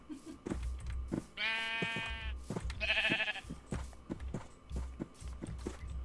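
Sheep in the Minecraft video game bleat twice in quick succession over a steady run of soft footsteps, close and clear against quiet game ambience.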